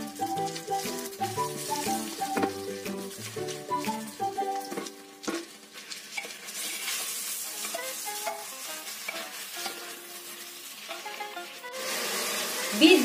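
Onions frying in a pan for goat head curry, stirred now and then: a continuous close sizzle with irregular scraping and clinking from the stirring, under soft background music, growing louder near the end.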